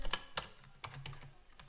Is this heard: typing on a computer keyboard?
yes